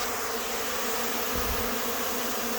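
A swarm of bees buzzes steadily from inside a shed as they are puffed out for removal, a dense continuous drone with a brief low thump midway and no talk.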